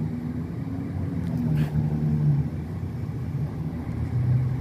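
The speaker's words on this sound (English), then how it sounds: "I guess the other vehicle just pulled up now." A car pulls up at the scene of a two-car collision in Stanton, California, a steady low engine rumble nearby that swells slightly midway, with faint background noise and no clear talking.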